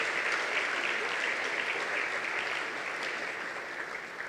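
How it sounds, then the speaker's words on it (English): A crowd claps steadily for several seconds, a dense, even patter of applause that tapers slightly toward the end. "Please put your hands together for them, ladies and gentlemen."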